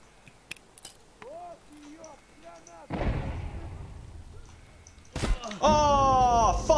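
A grenade explodes in a shooter video game tournament match, a heavy booming blast with a long rumbling tail, followed by more sharp bangs near the end, with brief voices and whistling tones earlier.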